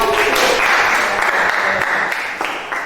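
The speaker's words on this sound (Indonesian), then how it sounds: "boleh kita beri tepuk tangan dulu untuk kelompok" Students clapping for a student group during a mathematics class, brisk continuous applause that fades slightly toward the end.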